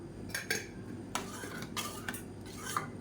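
A utensil scrapes and clinks against a pot while stirring a black kavuni rice and urad dal mixture, a few soft scraping strokes close by, faint and without voices.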